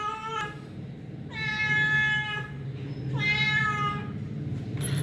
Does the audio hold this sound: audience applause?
no